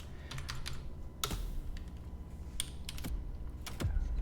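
Keys on a computer keyboard are tapped in scattered, quiet clicks, a few quick presses spaced by short pauses, close and with no talking.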